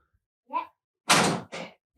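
A door is shut in a home. A soft bump is followed by a louder, fuller thud and a shorter second knock as it closes, all close by and with no speech.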